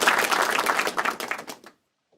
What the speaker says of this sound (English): Where's my round of applause, ladies?